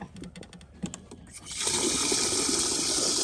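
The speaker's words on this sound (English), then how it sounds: "Here, I'll hold it, and then you turn the water on." Water gushes from a hose into a container on a farm, starting abruptly partway through as a loud, steady rushing fill after a quieter stretch of faint background sounds.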